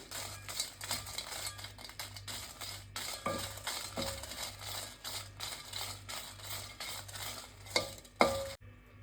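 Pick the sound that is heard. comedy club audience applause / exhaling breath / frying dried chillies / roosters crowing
frying dried chillies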